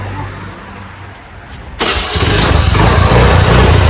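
A used 2014 motorcycle engine starts after a quiet pause: a sudden burst catches and settles into a loud, steady, close-up rumble with no talking.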